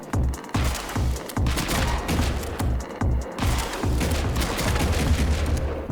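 Video-game gunfire in a deep underground boss fight, rapid bursts of loud, close shots in a fast repeating rhythm with brief pauses, continuing as a dense fusillade to the end.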